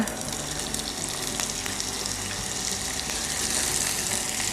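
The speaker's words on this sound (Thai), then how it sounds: "เราจะตั้งน้ำมันให้พอร้อนนิดนึงเนาะ ตามด้วยหอมใหญ่ลงไปเลยนะคะ" Onion frying in hot oil in a pan, a dense, close, steady sizzle with faint stirring clicks, no speech.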